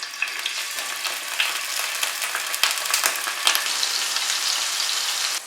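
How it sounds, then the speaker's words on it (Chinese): Tofu sizzles and crackles steadily in hot oil in a pan, a dense close frying hiss with scattered pops throughout and no talk. "加入豆腐，煎至两面金黄"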